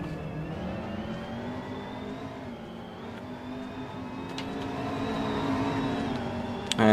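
Race cars in a racing video game on the Russian Grand Prix circuit, engines droning at moderate volume as they slow into a braking zone, a steady whir with shifting pitch and a sudden burst at the end.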